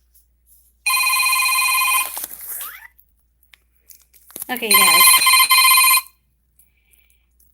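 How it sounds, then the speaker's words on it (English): Mobile phone ringing indoors, two loud electronic ring bursts about a second long separated by a pause, with a person speaking briefly between them. "my phone is ringing and I'm going to have to go"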